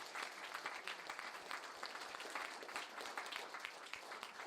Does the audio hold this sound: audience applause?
yes